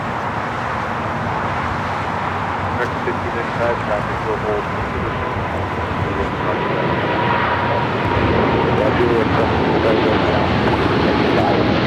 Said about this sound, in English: That would be China Cargo Airlines, flight 222, taking off to Shanghai on the 777 freighter.